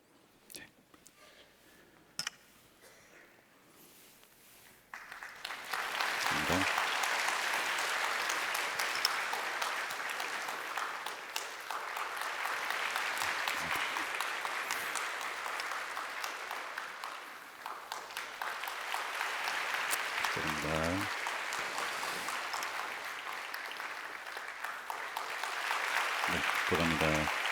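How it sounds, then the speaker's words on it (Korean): A church congregation applauds during a Sunday worship service's appointment ceremony, sustained broadband clapping that swells and holds for over twenty seconds after a quiet start, with a few brief voices breaking through. "속장님들을 위해서 다시 한번 크게 박수해 주시기 바랍니다."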